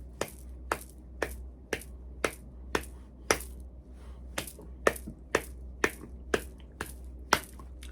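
Hands clap out a slow, steady rhythm during a music lesson, with about fifteen crisp, isolated claps close by against a low background hum and no talking.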